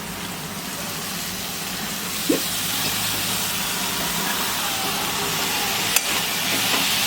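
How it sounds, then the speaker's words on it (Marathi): Dried shrimp tossed into a pan of fried onion, chili and tomato gives a steady, even sizzling hiss throughout, with a couple of faint clicks of a utensil. "मी आता ही सुकट टाकत आहे।"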